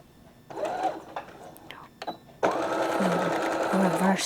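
A sewing machine runs a straight stitch through a ribbon skirt: short stop-start bursts of motor whir early on, then one steady continuous run of stitching, close and loud, with a voice talking over the opening bursts.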